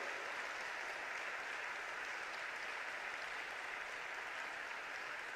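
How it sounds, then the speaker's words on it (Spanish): Steady applause from a church congregation fills the whole stretch, a dense even patter with no voices rising above it. "dale un aplauso"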